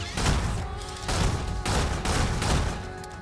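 Sustained rapid gunfire in the video game Stellar Blade, loud and continuous bursts pounding for about three seconds with brief dips between volleys until the ammo runs dry.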